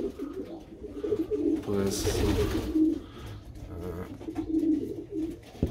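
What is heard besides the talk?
pigeons cooing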